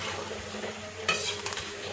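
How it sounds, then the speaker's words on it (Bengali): Palm fritters (taler bora) sweetened with sugar fry in oil at medium-low heat, giving a continuous soft sizzle with a couple of brief louder spits partway through. "তেল গরম করে হালকা করে আমি মিডিয়াম মাঝে বড়াগুলি ছেড়ে এরকম একটু টাইম দিচ্ছি"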